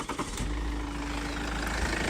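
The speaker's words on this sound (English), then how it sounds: "Lovely, smooth, powerful, torquey diesel engine." Cold 2.0-litre D-4D (1CD) diesel in a Toyota Corolla SR ticks over at idle with a steady, close, even rumble and a faint low hum, heard alone without talk.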